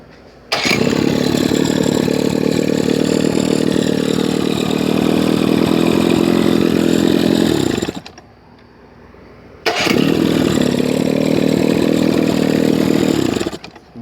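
A rebuilt Johnson 15 outboard engine with an electric choke carburetor starts and idles twice, running loud and steady for about seven seconds, cutting out briefly, then firing up again and idling.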